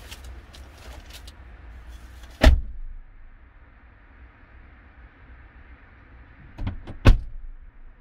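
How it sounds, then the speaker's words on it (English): The rear back door of a Mitsubishi Pajero shuts with a solid thud, followed a few seconds later by a second pair of thumps, all in a quiet setting. "It's the rear back door which is open. So let me go close that."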